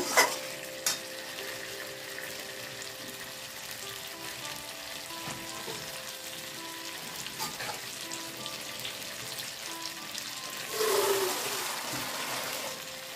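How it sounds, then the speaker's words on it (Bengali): Potatoes sauté in oil in a pan, a soft steady sizzle with occasional stirring knocks, swelling into a louder hiss near the end. "দেখো বন্ধুরা আলু কষানো হয়ে গেছে, তেলও ছেড়ে দিয়েছে।"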